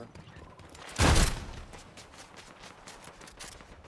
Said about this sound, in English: There's shooting over.